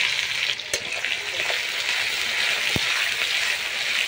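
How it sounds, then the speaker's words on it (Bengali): Chopped onion hisses and crackles in hot mustard oil in a pan over an earthen stove while cooking mutton kaliya, a dense continuous sizzle with a couple of brief knocks from the utensil, with no talking. "এবার আমি দিয়ে দিচ্ছি পেঁয়াজ কুচি।"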